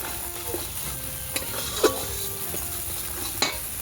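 Spices frying in oil in a home kitchen pan while being stirred for a whole-vegetable curry with tomato, chilli powder and turmeric: a steady close sizzle with a few sharp scrape and clink accents from the stirring utensil.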